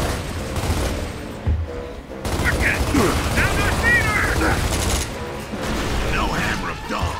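In the shooter Gears of War, gunfire pounds a wall in a dense, continuous rattle of heavy rounds, steady and close, with game voices and effects layered over it.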